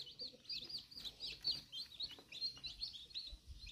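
Chickens and ducks in a rural Thai farmyard, with repeated close clucks and chirpy calls in quick irregular bursts over faint background noise.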